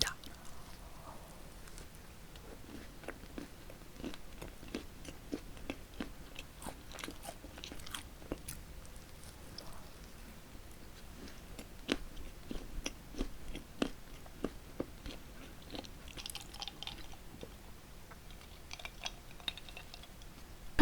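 Krispy Kreme Christmas doughnuts being bitten and chewed up close, with soft repeated crunchy bites and wet mastication in a quiet room.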